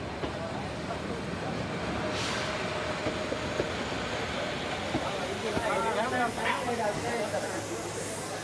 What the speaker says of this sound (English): As the train comes in, the ball token is handed over.